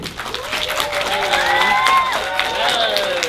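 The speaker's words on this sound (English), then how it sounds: "And can we give an applause to Bella Boss" Audience applause and cheers fill a film premiere screening in Santa Monica, Los Angeles, with whoops rising over the clapping and voices talking underneath.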